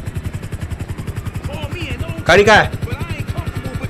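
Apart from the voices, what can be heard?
police helicopter in the video game GTA V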